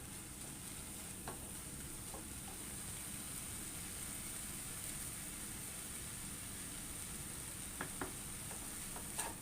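A spoon stirs carrot halwa cooking with milk and sugar in a pan, giving a low, continuous bubbling sizzle with occasional scraping knocks and no voices.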